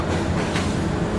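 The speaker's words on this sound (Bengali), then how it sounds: "ঢাকা ও রাজশাহীর ভিতর চলাচলকারী আন্তনগর ট্রেন सिल्क सिटी एक्सप्रेस।" Silk City Express, an intercity train between Dhaka and Rajshahi, rumbling steadily as it arrives at a station, a continuous close, fairly loud roar of rolling stock with no voices.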